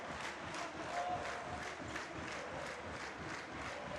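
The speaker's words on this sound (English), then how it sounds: "We've got a clap going on in the arena." Spectators in a volleyball arena at a girls' school championship final keep up a rhythmic group clap, heard faintly and at a distance as a steady pulsing patter blended into crowd noise.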